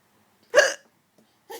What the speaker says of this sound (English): You like my hiccups?